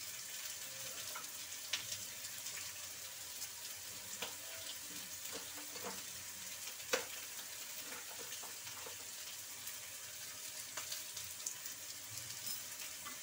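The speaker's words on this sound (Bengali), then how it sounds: "মশলার সাথে কুমড়ো ভালো করে কষিয়ে নেব।" Pumpkin pieces frying with cumin and ginger paste in a pan, a soft steady sizzle running throughout, quiet and close, with faint clinks and stirring sounds scattered through it.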